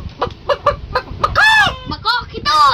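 A man imitates a chicken with his voice, giving short clucks followed by drawn-out rooster-like crowing calls, close and loud, alone without other talk.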